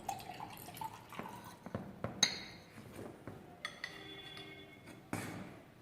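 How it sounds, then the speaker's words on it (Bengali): Sodium hydroxide solution poured from a bottle into a glass beaker at a lab bench, giving faint trickling and dripping with a few light glass clinks, close by and quiet, with no talk. "এই বিকারের মধ্যে খানিকটা এনওইচ সলিউশন প্রথমে আমি ঢেলে নেব।"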